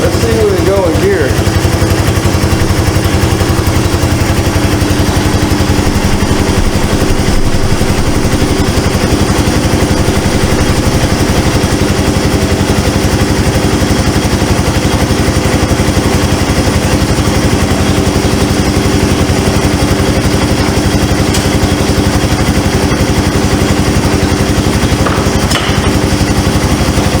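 Yamaha 250cc ATV four-wheeler, abandoned, running loud and close with a steady rough engine drone throughout, voices talking over it.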